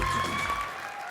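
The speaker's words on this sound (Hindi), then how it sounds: "एक बार समीर साहब के लिए जोरदार तालियां हो जाएं।" Audience applause on a comedy show stage, a short burst of crowd clapping that stays loud for about a second before easing slightly.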